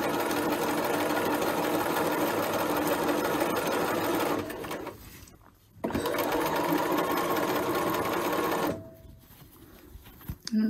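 A sewing machine stitches a McCall's 8220 top in a long steady run, pauses briefly, runs again, then stops. The motor's whir is loud and close.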